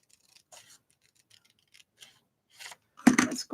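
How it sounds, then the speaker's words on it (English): Scissors snip by hand through a glossy magazine cutout, a few faint cuts at first, then a louder burst of close, crisp snipping near the end. "And I just trim this by hand."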